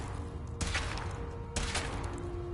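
A weapon fires twice in Fallout 4, each a loud, sharp burst with a crackling broadband tail, spaced about a second apart over a heavy droning background.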